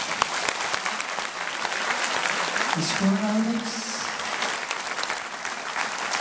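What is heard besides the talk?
audience applause at birthday show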